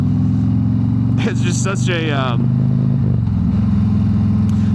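A Harley-Davidson Road Glide 3 trike's engine rumbles steadily and loudly throughout the ride, a low continuous drone with someone talking over it partway through.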